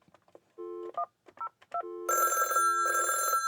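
A telephone on an extension of a Panasonic KX-TA824 analog PBX sounds with electronic tones: short dial-like beeps first, then two loud, bright ringing bursts, each about half a second to a second long, with no talking.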